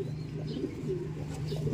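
A racing pigeon gives soft, low cooing close by, a steady murmuring hum with faint chirps and slight wing or movement noises around it.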